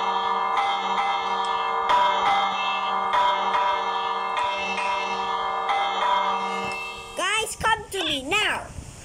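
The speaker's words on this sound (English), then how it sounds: "Bells!" Bells ring repeatedly in a video game, a steady run of clear, bright bell-like tones through most of the clip, followed by a burst of chirpy swooping synth sounds near the end.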